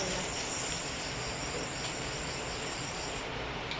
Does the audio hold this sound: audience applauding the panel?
no